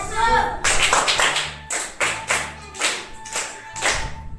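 Group hand clapping in a steady rhythm of about eight sharp, loud claps, with a voice talking at the start.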